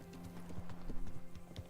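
A horse's hooves clip-clop in a steady walking rhythm in Kingdom Come: Deliverance, faint and close over a low ambient hum.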